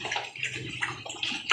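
Water splashes and gurgles as it is poured out for pigs on a farm, a close, uneven rushing with short bursts and sloshing, no voices.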